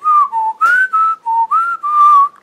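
A person whistles a melodic tune of about seven clear, sustained notes, loud and close, with no talking.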